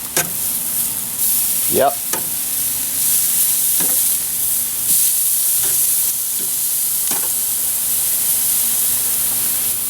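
Marinated steaks sizzle on a hot grill with a continuous hiss and some brief scraping and handling noises, and a voice speaks briefly once.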